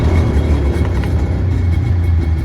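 A cheap used Waverunner engine runs loudly up close after starting, a rough low rumbling drone with uneven pulsing through the whole stretch, no talking.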